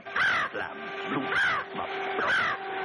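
Cartoon bird giving three hoarse, crow-like caws in steady rhythm, close and fairly loud over a faint background tone.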